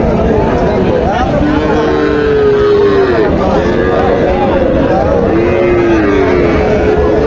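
Young Sahiwal cross calves at a rural cattle market give drawn-out moos, several overlapping calls near and farther off, heard over a constant crowd murmur of distant voices.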